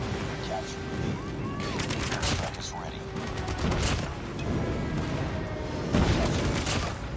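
Airstrike explosions hit in Call of Duty Mobile amid gunfire, a string of booms and bursts with rattling shots that swell toward the end, mixed with game sound effects and voices talking.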